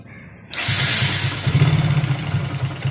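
A Hero or Honda motorcycle with a self-starter fault is started in neutral, a quiet lead-in broken by a sudden crank as the engine catches, then settles into a loud, close, steady throbbing idle.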